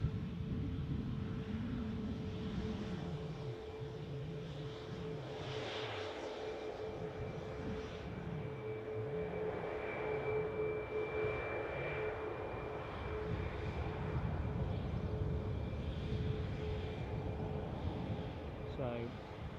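A Boeing 737 Max 8 departs Newcastle airport, its jet engines giving a steady, broad roar that holds throughout at moderate distance, with a faint whine on top and people talking over it.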